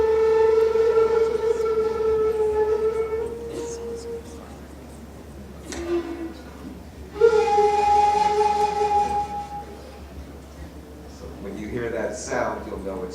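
A shakuhachi bamboo flute sounds long breathy held notes with a throat growl and finger trills, phrases separated by pauses and breath noise, close and fairly loud.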